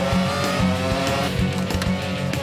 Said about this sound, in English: it's the last lap and Ed Mitchell hits the... throttle